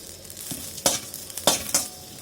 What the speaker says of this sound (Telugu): జీలకర్ర మిరియాలు చింతపండు వేసి వేయించుకోండి